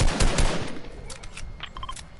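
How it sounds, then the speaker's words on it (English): Gunfire from a PS4 video game plays as a short burst of rapid automatic shots, loud at first and then fading into scattered, quieter distant shots. "What are you shooting at?"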